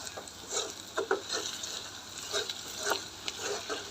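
Onion masala paste frying in hot oil in a pan while it is stirred, making a steady soft sizzle with scattered light scraping and tapping strokes throughout, close and moderately quiet, with no voices.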